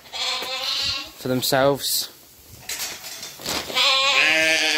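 Ewes in a farm pen bleat loudly and close by, with wavering calls in the middle and toward the end, mixed with a person talking over them.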